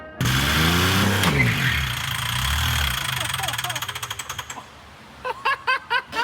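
A car engine runs and knocks with a rough, uneven low rumble, then sputters in a quickening series of pulses before dying out, followed by a few short loud bursts, with talking mixed in.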